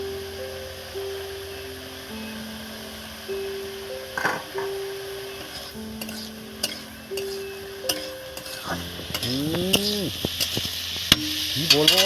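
Chopped tomatoes go into hot oil already tempered with whole spices for a flattened-rice pulao, giving a steady sizzle with stirring clatter. Background music plays throughout, and the sizzle grows louder toward the end.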